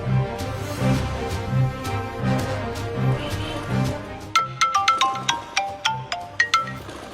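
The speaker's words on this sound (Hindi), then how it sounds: "करती हूँ राशिद को फोन, बुलवाती हूँ उसे घर" A phone rings with a repeating melodic ringtone, steady chimes giving way to sharper plucked tones, loud and close with no talk over it.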